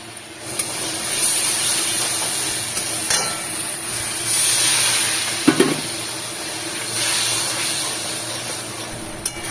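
Ridge gourd sizzles in a pan with nigella seeds, onion paste and chili paste, a steady frying hiss that runs throughout, broken by a few clinks of a utensil against the pan.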